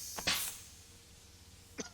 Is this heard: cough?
yes